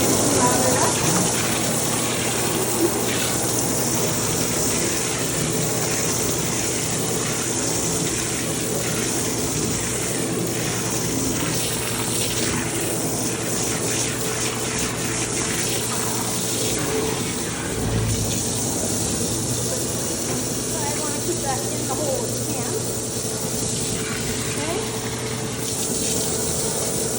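Dog bathing system spraying a mix of water and shampoo, a steady hissing spray running continuously at moderate level with faint background talk.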